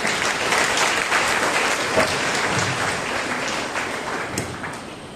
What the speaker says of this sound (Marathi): प्रभूला टाळ्या वाजवूया आपण.